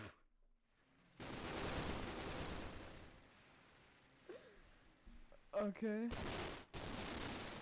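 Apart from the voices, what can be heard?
gunfire shooting sound from corrupted GameCube BIOS video game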